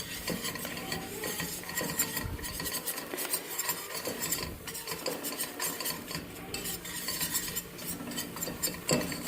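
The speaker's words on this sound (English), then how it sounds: "I have a stupid short whisk that belongs to my immersion blender" Short immersion-blender whisk stirring all-purpose flour in a pot, a steady quiet scraping and clinking of metal against the pot, close and continuous with no talking.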